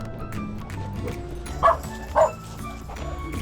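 Two dogs give a pair of short, sharp barks in quick succession, moderately close, over a low background rumble and faint voices.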